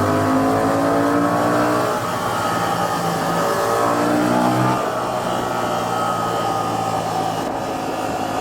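A Honda XL750 Transalp motorcycle in third gear pulls with a loud, continuous engine drone that climbs in pitch, eases briefly, then steadies under rushing wind noise.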